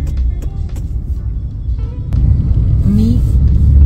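Road traffic heard from inside a car in evening city traffic: a low, steady engine and road rumble that swells slightly toward the end, with faint passing tones and occasional clicks.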